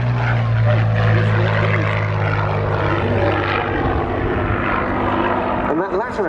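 A Curtiss P-40C Warhawk propeller fighter flies at Duxford, its engine a loud, sustained drone that holds steadily across the whole stretch, with a commentator talking over it.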